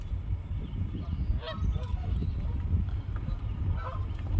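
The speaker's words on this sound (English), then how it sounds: "That's a lot of ducks." A large flock of waterfowl honks and calls together outdoors along a nature trail, a dense, continuous chorus of overlapping cries at moderate distance with wind rumble underneath.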